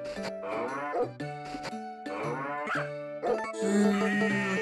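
Cattle in Harvest Moon: Tale of Two Towns mooing several times in a row, close and fairly loud, with long drawn-out calls separated by brief gaps and no talking.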